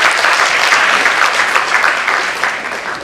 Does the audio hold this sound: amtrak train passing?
no